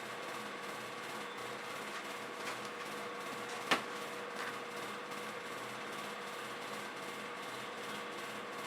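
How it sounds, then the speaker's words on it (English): Steady broadband whir of an electric fan running throughout a room where acrylic painting is underway, with one brief sharp tap partway through. "Sorry about the fan."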